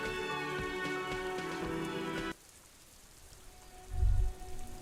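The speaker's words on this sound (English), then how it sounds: "All around you, rain falls on the great city of Revachol." Rain falls on the city of Revachol in the video game Disco Elysium as a steady, soft hiss. It sits under game music that cuts off abruptly, then continues alone with a brief low rumble.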